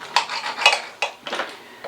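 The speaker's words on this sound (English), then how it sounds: "So I'm going to cut in between the bones." Knife slicing between the bones of fire-grilled Asian short ribs on a plate: a few close, crisp scraping strokes and clinks in an uneven rhythm, each cut sharp at onset and fading quickly, with no talk.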